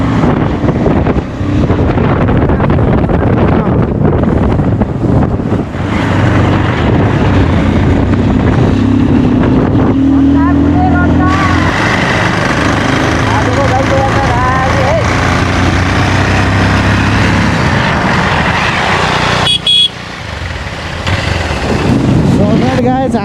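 A motorbike engine drones steadily on a long ride through Rolpa, Nepal, buffeted by heavy wind rumble on the microphone while a rider talks over it throughout.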